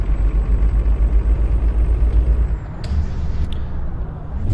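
Truck retarder braking in Euro Truck Simulator 2: a steady, loud low-frequency engine rumble holds through the first half, then drops to a softer drone with a couple of brief clicks.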